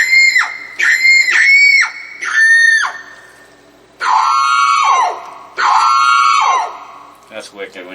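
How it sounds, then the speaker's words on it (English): A woman-scream voice preset on a Yamaha PSR-EW410 keyboard plays loud, bright, repeated shrieks in short bursts, then two longer falling screams, with brief noise at the end. "That's like a woman screaming."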